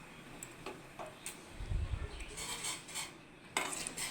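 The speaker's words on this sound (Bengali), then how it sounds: "এবারে চামচ দিয়ে ডিমগুলোকে নেড়ে দেবো" A spoon stirs eggs in a pan, making light metallic scrapes and taps, with a few louder clinks near the end. The sound is close and fairly quiet, and nobody speaks.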